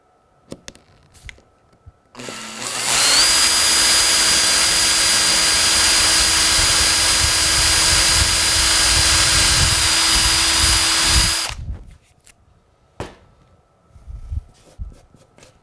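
A power drill bores into a model railway baseboard, making a single loud, steady whine that runs for about nine seconds before stopping, with quiet handling noises before and after.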